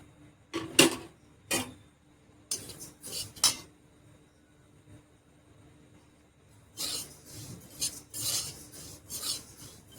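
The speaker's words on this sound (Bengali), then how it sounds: "তিলগুলো আগে ভেজে নিচ্ছি, কড়াই গরম হয়ে এসছে।" Sesame seeds are roasted and stirred in a hot wok, producing scattered bursts of dry scraping and rasping from the spatula, separated by quiet pauses and then a denser run of stirring toward the end.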